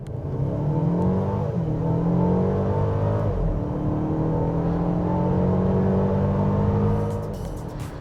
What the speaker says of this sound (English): you can really get some sound out of the little 4-cylinder